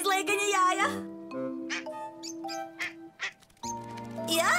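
Cartoon ducklings quack in a scene about baby ducks learning to swim, a run of high, squeaky calls between bursts of animated character dialogue, close and clear.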